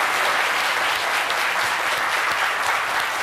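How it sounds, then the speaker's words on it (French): Studio audience applauding loudly and steadily during a live Ivorian television midday show, a dense unbroken wash of clapping from start to finish with no voices. "Je vous demande de l'applaudir encore très, très fort"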